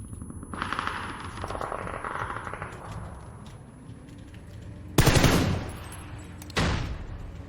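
Video game gunfire in a close, loud run of rapid automatic bursts, broken by a quieter stretch before two heavier blasts near the end.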